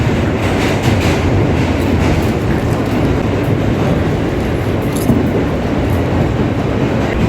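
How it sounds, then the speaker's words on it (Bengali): Steady, loud rumble from inside a moving E subway train near World Trade Center in New York, with continuous rail noise and faint clicks over the wheels. "অবশেষে আমরা E-ট্রেন পেয়ে গেছি, আর এই যে ট্রেনে বসে আছি"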